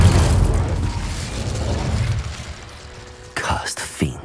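The Incendio fire spell cast in Hogwarts Legacy opens with a loud, roaring burst that slowly fades, then sharp crackling impacts and pops flare up near the end.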